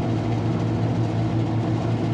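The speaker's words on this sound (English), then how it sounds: "That's the blower." A Lennox Prodigy rooftop HVAC unit's blower motor runs steadily, a constant low mechanical hum and whoosh with no break and no voices.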